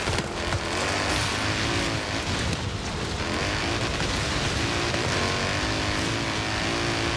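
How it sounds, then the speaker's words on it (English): A V8 car engine in the Forza Horizon 3 racing game roars loud and steady through the whole stretch, dense and unbroken with engine-on-the-limit racing noise and no voices. "You hear that V8 behind you, right?"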